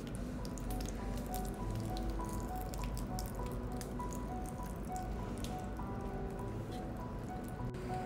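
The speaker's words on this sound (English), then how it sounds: "Okay, now we're gonna add some water." Water is added to a balcony vegetable planter, giving faint, wet dripping and squishing sounds as it soaks into the soil, steady and quiet throughout.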